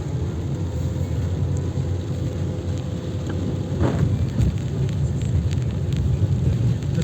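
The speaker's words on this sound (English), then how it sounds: "There's still a lot of rain," Heavy rain pours steadily in an Alpine storm at Pieve d'Alpago, with a low thunder rumble around the middle rolling under the constant hiss of downpour on surfaces.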